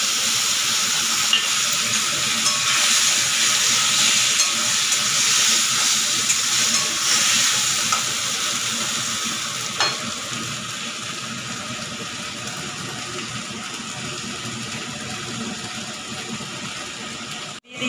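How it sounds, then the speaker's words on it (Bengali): Ground mustard paste and green chillies fry in a pan with ginger and cumin, giving a loud, steady sizzling hiss that softens slightly partway through, with no voices. "দিয়ে দিতে হবে পিষে রাখা সরিষে আর কাঁচা লঙ্কা।"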